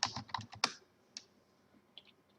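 Quick bursts of typing on a computer keyboard, a cluster of sharp clicks up front followed by a few sparse, isolated key taps, close and clear with no talk.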